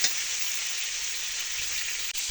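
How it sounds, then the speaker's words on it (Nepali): Pork sizzles as it fries in a pan in a village kitchen, a continuous, even crackling hiss that carries on without pause and with no talking. "रुपेश भाइले चाहिँ पुरै यहाँ पुरै भुट्दैछ होइन"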